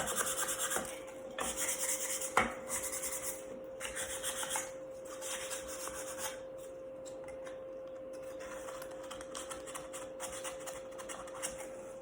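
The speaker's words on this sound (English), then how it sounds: "So what I'm going to do real quick is just sand that out, clean it up, hit all the edges." Sandpaper rubbed by hand along the edges of a wooden box during resin box making, repeated close rasping strokes in a steady back-and-forth rhythm that fade into quieter rubbing, with a steady hum underneath and no talk.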